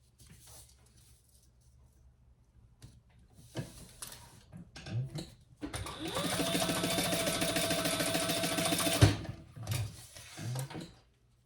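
A powerful sewing machine stitches a trifold men's wallet in one loud, steady mechanical whirring run of about three seconds, preceded and followed by handling clunks and fabric rustles, close-up.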